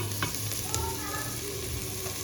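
Onion frying in a little oil in a pot, a soft steady sizzle with faint crackles and a few light stirring sounds.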